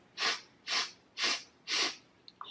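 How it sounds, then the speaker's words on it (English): Four evenly spaced, soft nasal sniffs, close and isolated, make up a count-of-four inhale in a calming children's breathing exercise, followed by a tiny click. "breathe in for 4 sniffs or inhales"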